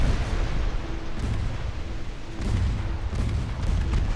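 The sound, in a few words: torpedo hit on warship in Ultimate Admiral Dreadnoughts video game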